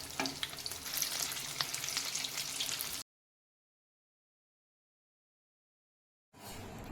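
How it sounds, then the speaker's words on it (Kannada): Potato bondas for vada pav deep-frying in oil, a dense, steady bubbling sizzle with light stirring, close up, cutting to silence for a few seconds before the frying resumes. "ಈಗ ಎಣ್ಣೆಯಲ್ಲಿ ಇದು ಫುಲ್ಲು ಫ್ರೈ ಆಗಲಿ"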